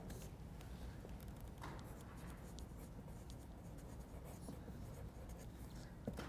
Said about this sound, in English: So let's write down the Lagrangian.